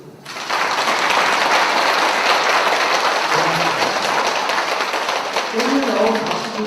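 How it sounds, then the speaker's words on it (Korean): A large audience at a spiritual lecture on small churches bursts into loud, sustained applause that swells quickly and holds steady, with a few voices surfacing near the end. "오늘 나온 박수 중에 가장 큰 박수였습니다."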